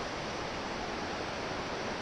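Grinder Creek flows at a hiking crossing with a soft, steady wash of water, continuous and fairly faint, with no voices.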